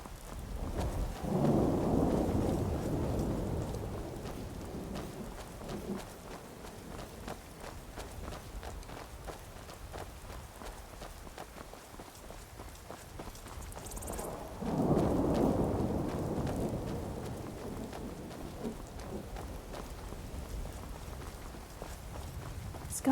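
Rain falling in an icy area in the Skyrim video game, a soft continuous patter with two heavier rumbling swells, faint and steady, with a few footstep-like sounds.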